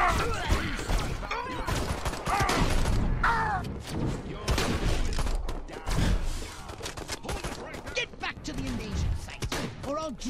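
Weapon fire in Destroy All Humans, dense bursts of alien blaster shots with thuds and crashes crowding a loud battle scene, while characters speak over the din.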